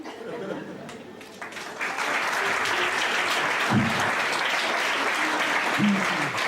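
A comedy club audience bursts into applause, the clapping swelling after a couple of seconds into a dense, sustained roar of many hands, with faint voices and chatter mixed in.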